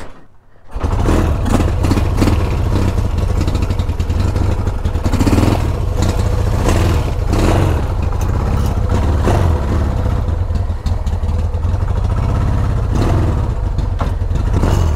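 A 1975 Yamaha XS650 motorcycle engine runs steadily at idle, close and loud for the whole stretch, with a constant low rumble and mechanical clatter and slight unevenness, after a brief quiet start.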